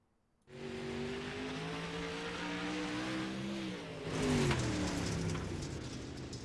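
A dirt late model race car on a qualifying lap near the wall at Lanier, its engine droning steadily and shifting pitch before swelling louder as it passes close.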